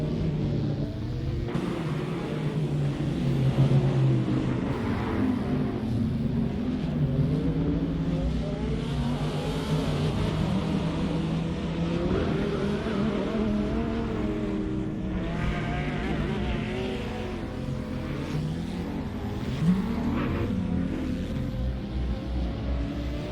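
Race car engines roar continuously in an AI-driven racing video game, a Lamborghini among the field, with steady droning and revving pitch shifts and occasional cars sweeping past, all without talk.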